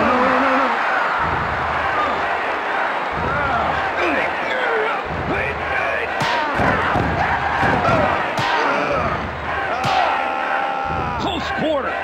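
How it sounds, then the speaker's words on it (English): Dense crowd roar from a wrestling arena in the N64 game WWF War Zone, a loud continuous din with repeated thuds and slams punching through and game commentary talking over it. "The crowd goes crazy."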